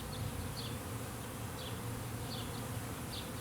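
Honey bees buzz steadily throughout an open hive, a dense continuous drone close by with occasional louder passes of individual bees, and no voices.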